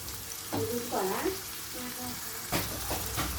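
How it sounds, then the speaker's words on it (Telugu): Onions frying in a pan for chicken iguru, a soft continuous sizzle with stirring scrapes and brief tonal clinks, no talk. "ఒకసారి ఆనియన్స్ ఇలా తిప్పుకుని పసుపు,"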